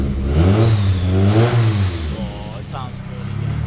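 A Nissan SR engine in an S15 revs up and falls back with a raspy, rising growl, loud and close, then settles toward idle.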